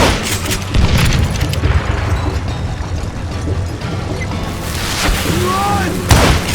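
Gunshots and heavy booms in the Western shooter Call of Juarez: Gunslinger, with loud reports and crashes over a dense battle background, and voices talking at points.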